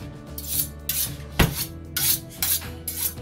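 Rhythmic metallic scraping strokes, about six quick rasping swipes with a sharp clink midway, close and fairly loud.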